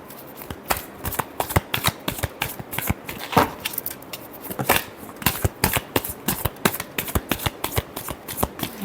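Tarot cards shuffled by hand in quick riffling bursts, a steady close-up patter of crisp paper flicks and slaps with no talking.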